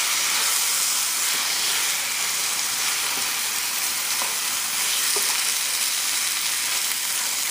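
Meat frying with its garlic-ginger marinade poured into the pan, a loud, dense, continuous sizzling hiss close up with faint clinks underneath.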